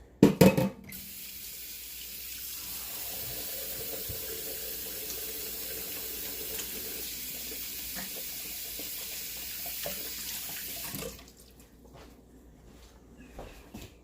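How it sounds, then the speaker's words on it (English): A kitchen faucet runs in a steady, splashing stream while hands are washed beneath it, close and continuous for about ten seconds before the water cuts off. "let me wash my hands"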